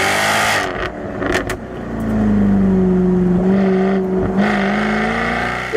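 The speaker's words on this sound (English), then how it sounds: "the sound when you open up the baffles is one of the best sounding V8s on the market" A 550-horsepower V8 car engine revs loudly with its exhaust baffles open, roaring up in pitch and holding a sustained, close growl after a few quick blips.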